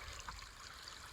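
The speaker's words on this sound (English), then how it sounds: "I'm currently filtering water" Water trickles steadily while being filtered beside a stream on the Appalachian Trail approach trail, a soft continuous flowing hiss heard alone with no talking.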